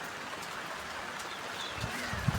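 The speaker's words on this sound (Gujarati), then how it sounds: "વરસાદ બહુ આવ્યો" Rain falls softly and steadily, a quiet hiss with a few faint knocks near the end.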